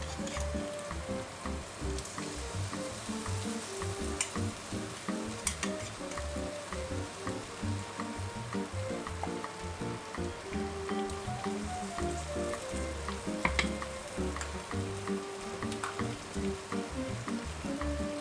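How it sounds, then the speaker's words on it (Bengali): Ground spice paste frying with onions in a pan while making Bengali home-style ghugni, heard as a continuous close sizzle mixed with repeated scraping and stirring strokes against the pan, with no speech. "এবার আমরা এই যে পেঁয়াজটা ভাজা হচ্ছে তার মধ্যে এটা দেব।"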